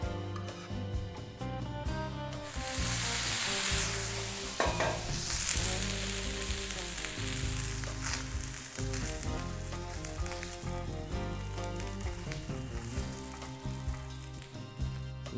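Dosa batter cooks on a hot pan, with a continuous sizzle that flares sharply when the batter goes on and settles into steady crackling frying, with music playing underneath.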